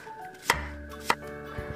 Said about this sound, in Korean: 믹서기에 갈아줄 재료를 썰어준 후 갈아줍니다